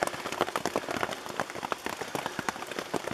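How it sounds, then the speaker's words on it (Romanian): Rain patters on a lavvu tent, a dense, steady drumming of drops close overhead with irregular louder taps, no voices. "Ploaia n-a trecut prin el."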